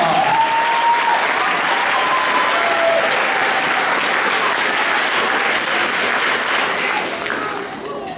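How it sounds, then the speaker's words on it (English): Loud, sustained applause from the audience at a middle school fall concert, dense crowd clapping that holds steady for about eight seconds, with a few faint voices and whistle-like tones over it, before tapering slightly at the end. "Let's give one round of applause."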